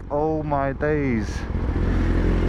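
A BMW S1000RR motorcycle engine revs sharply twice in quick succession, then settles into a deep, rough rumble close by, with a man's excited exclamation over it.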